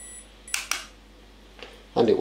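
Olympus XA 35mm compact rangefinder camera firing its shutter on the self-timer: two sharp close clicks in quick succession, then a faint later click, with a brief burst of voice at the end.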